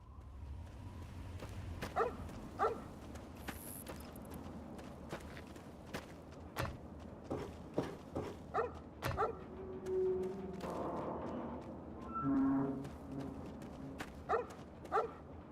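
Dogmeat, the dog companion in Fallout's DC wasteland, barking in a string of sharp single woofs, some yips and a brief whimper, with footsteps moving between them at moderate distance.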